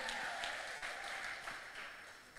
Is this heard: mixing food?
no